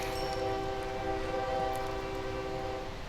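A train runs in the OpenTTD video game, a steady whistling drone with sustained horn-like tones over continuous rumbling, moderately loud and unbroken.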